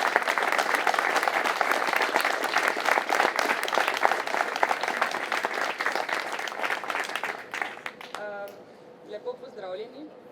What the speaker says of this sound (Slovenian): mi pa jo lahko nagradimo z aplavzom.